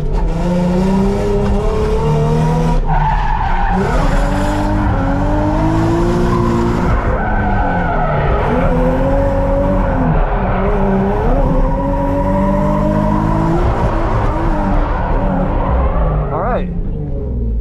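A car drifts around a race track in Dubai, its engine revving and rising and falling in pitch with some tire noise, loud and continuous while someone talks over it.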